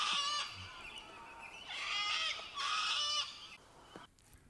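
Harsh, raucous sulphur-crested cockatoo screeches in a few loud bursts, with short pauses between, close and unaccompanied.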